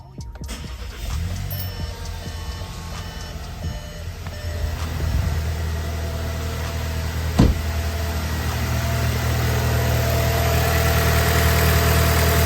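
A 2020 VW Tiguan 2.0T TSI engine cranks and catches, then settles into a steady idle heard nearby, with a brief clack partway through and the idle hum holding evenly to the end.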